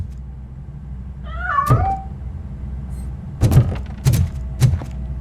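A cat meows in the video game Robocop Rogue City, a single rising-and-falling meow near the start, then several dull thunks and thuds over a steady low background hum.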